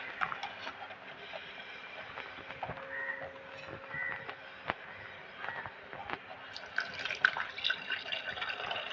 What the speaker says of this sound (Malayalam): നമുക്കിനി പാല് പതുക്കെ ഇതിനകത്തേക്ക് ഒഴിക്കാം.